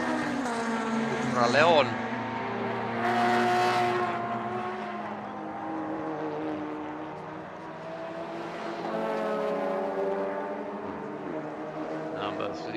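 Touring race cars from the Baltic Touring Car Championship, a Honda and BMWs among them, race on a circuit with engines droning and rising as they pass, heard under steady commentary.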